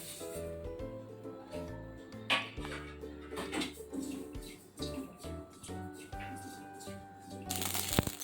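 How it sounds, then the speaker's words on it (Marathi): Garden cress seeds dry-roasting in a pan crackle and pop in a light, irregular patter over steady background music, with scattered scraping as they are moved around. "हे बघा हरीम छान असे दडदडायला लागले"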